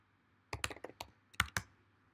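A password being typed on a computer keyboard: two short bursts of crisp key clicks, close and clear against a quiet background, with no talking.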